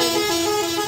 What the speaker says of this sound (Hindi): गाड़ी का हॉर्न पे पे पे पे हो रहा है, कुछ सुनाई नहीं दे रहा।